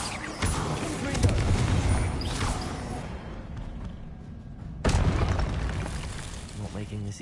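Confringo spell explosions in Hogwarts Legacy boom loudly twice, one blast at the start fading into rumbling debris and a second sharp burst midway that rolls off slowly.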